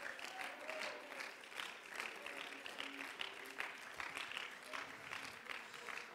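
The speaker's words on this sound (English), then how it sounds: "Clap your hands and give Him praise." A church congregation claps along in praise, a faint, continuous patter of many hands with voices mixed in underneath.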